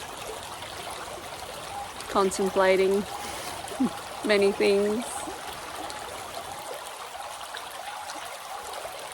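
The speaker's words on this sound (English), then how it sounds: "I was just sitting here by the trickling lake," Water trickling steadily beside a lake forms a soft, continuous babble throughout, while someone talks quietly over it for a few seconds in the middle.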